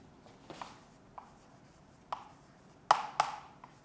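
Chalk scratches on a board during a maths lesson in short, sparse strokes, a few quick taps and scrapes with quiet gaps between them, ending in two sharper strokes close together.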